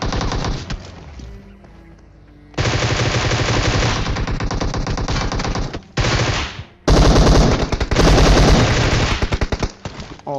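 Video-game AKM rifle fire rips out in long, loud automatic bursts, with a short pause and a quieter stretch at the start, then sustained volleys to the end.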